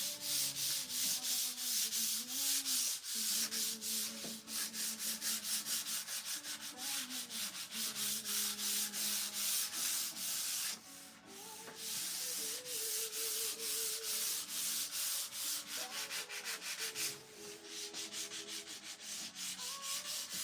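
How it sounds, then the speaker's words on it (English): Light hand sanding along the grain of a wood piece makes a soft, rhythmic scratching in quick repeated strokes, steady and close for the whole stretch, with a faint background hum and no talk. "I am just lightly sanding"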